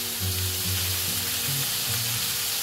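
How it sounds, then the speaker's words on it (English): Butter melts and sizzles loudly in a hot pan beside swordfish fillets, a bright, dense, unbroken frying hiss with low hum underneath, close and steady throughout without voices. "Beautiful, butter's going to melt straight away."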